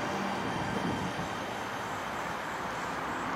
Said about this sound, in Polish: O, właśnie wagonik jedzie do góry.